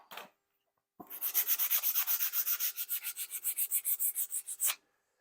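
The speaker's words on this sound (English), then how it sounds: "do a quick 120 hand sand on this" Hand sanding of a wooden picture frame with 120 grit sandpaper, a close, rhythmic series of about twenty quick scratchy back-and-forth strokes after a short opening scrape, heard alone without talk.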